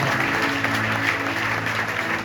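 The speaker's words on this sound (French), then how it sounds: "Applaudis Jésus ça." Church congregation applauding for Jesus during worship, a thick continuous roar of clapping hands at fairly loud level, with faint sustained tones of music or voices underneath.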